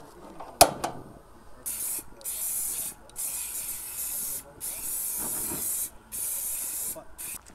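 A hooded gas barbecue being lit and brought up to medium heat, with a sharp click or pop near the start followed by repeated bursts of loud hissing gas, broken by short pauses.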